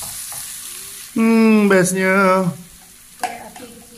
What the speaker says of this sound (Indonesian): Nanti kita goreng-goreng kat luar.